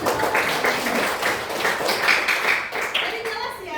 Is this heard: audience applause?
yes